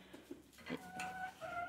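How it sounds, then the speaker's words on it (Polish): A hen clucks in a backyard flock, several short close clucks followed by a drawn-out vocal call, with no talk. "tu jest ta kurka."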